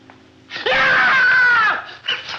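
A loud, drawn-out scream from the 1948 horror comedy Abbott & Costello Meet Frankenstein rises sharply and holds for about a second before trailing off, followed by a short vocal burst.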